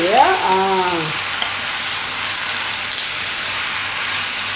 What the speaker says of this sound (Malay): kita masukkan dalam kuali tanpa menggunakan minyak kita nak matikan air daging ni dulu